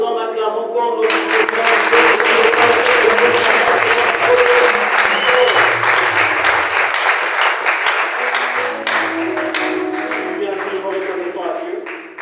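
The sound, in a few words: church congregation applauding and acclaiming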